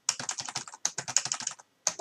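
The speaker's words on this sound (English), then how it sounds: "I'm going to type in no" Quick typing on a computer keyboard while entering a router command: two rapid bursts of crisp key clicks separated by a short pause, close and fairly quiet, with no talking.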